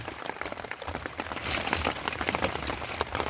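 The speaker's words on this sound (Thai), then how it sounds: "ฝนตกแรงมากครับ" Heavy rain pours down during a fishing outing in Thailand, a dense crackling patter of drops on surfaces that swells louder halfway through, with no talk.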